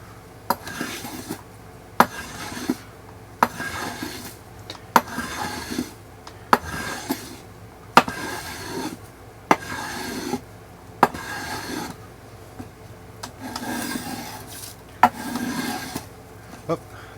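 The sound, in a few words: trimming a wooden ax haft by hand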